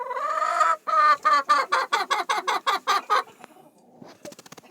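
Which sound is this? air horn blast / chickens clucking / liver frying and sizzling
chickens clucking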